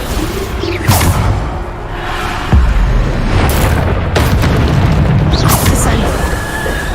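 Deep spell-impact booms from the Descendo spell in the video game Hogwarts Legacy, loud and heavy, recurring with whooshes amid dense combat noise, while a voice talks over it.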